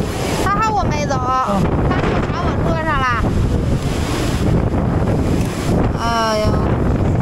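Strong wind roars and buffets against the microphone in a constant loud rush, with brief voices calling out over it.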